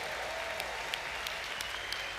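An audience at a church convention's evening session claps together in sustained, even applause, moderately loud and diffuse, filling a large hall with a few sharper individual claps standing out.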